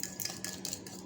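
Close, quiet clicks of a fork against a bowl while Russian salad is stirred and beaten, four or five brisk strokes in a row.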